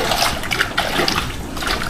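Water flows in a steady, close rush with a splashing, trickling texture that continues unbroken throughout.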